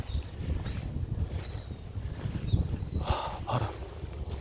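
Wind blows across a mountain during a hike, with a constant low buffeting rumble against the microphone and a few faint higher gusts and rustles over it.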